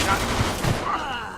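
Gunfire from the Mafia 2 video game sounds as a rapid burst of shots blurring into a continuous roar, loud and close, over about a second and a half.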